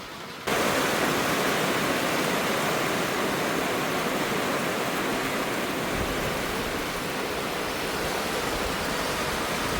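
Heavy rain pours down in a dense, loud, steady roar that starts abruptly and keeps going, like a sustained downpour close by.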